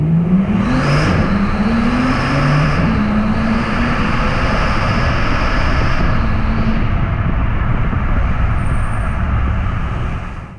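A 2019 Bentley Continental GT in sport mode revs hard, its loud engine note climbing and falling in a sustained roar close by, with no voices over it.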